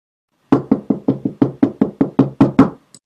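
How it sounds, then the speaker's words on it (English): A quick run of about eleven firm knocks on a door, close and loud, in an even rhythm after a half-second of silence. "I will knock on the door now."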